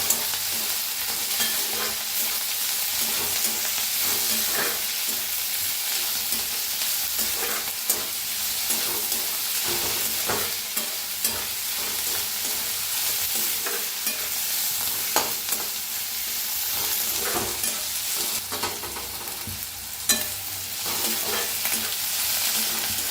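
Ingredients for vangyache bharit roasting and being stirred in a hot pan, a dense continuous sizzle with frequent scraping strokes of the spatula, close and steady throughout with no talking.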